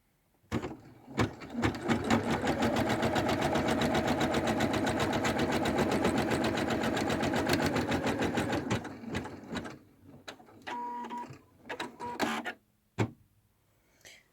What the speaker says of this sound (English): then I have to put it back to on the machine and stitch